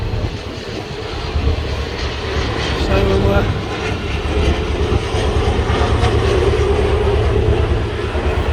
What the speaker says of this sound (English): there's a plane flying right over my head